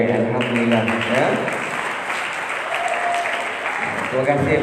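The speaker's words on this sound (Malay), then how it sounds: "Terima kasih bagi tepukan pada Izzat dan juga Fairuz." Audience applause fills a hall after a story and song performance, a steady dense clapping that holds loud throughout with a voice speaking over it.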